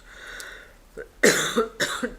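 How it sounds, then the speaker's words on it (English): Two or three harsh, close coughs in quick succession from one person, following a short quiet pause at the start. "I'm not sure I'm going to be able to speak without coughing"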